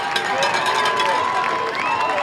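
Crowd noise at a high school football game, Sinton Pirates at Gregory Portland, with fans cheering and shouting on the sideline, a steady dense roar throughout, with voices mixed in.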